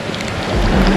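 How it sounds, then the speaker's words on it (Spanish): Steady rain falls on a private villa swimming pool in Thailand, a dense continuous patter that thickens toward the end with a low rumble beneath, close and moderately loud with no voices. "Está lloviéndonos un poquito aquí en la piscina"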